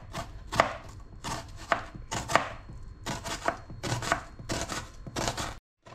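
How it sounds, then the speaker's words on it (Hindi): A knife chops a medium onion finely on a board for a spinach and turnip dish, with steady rhythmic cuts in quick clusters, close and crisp, and no talking. "इसमें जाएगी एक मीडियम साइज की प्याज, और इसको हम इस तरह से कट कर लेंगे"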